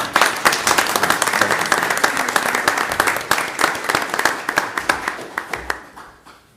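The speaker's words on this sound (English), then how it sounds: "let's give her a round of applause" Applause fills the room at a mayor and council meeting after a 5-0 vote, dense clapping that thins out toward the end into a few scattered claps.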